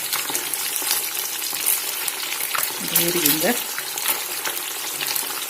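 Fish pieces fry in oil for a crispy fish fry, a loud steady sizzle with occasional scrapes as the pieces are slowly turned over, and a brief murmur of voice partway through.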